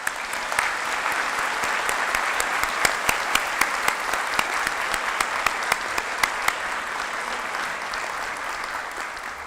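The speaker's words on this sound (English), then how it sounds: "please join the staff of the graduate school and people on the podium in one round of applause for all our new doctoral colleagues" An audience at a university doctoral hooding ceremony gives a round of applause for new doctoral graduates: sustained, loud, dense clapping from a large crowd with scattered sharper claps, tapering slightly toward the end.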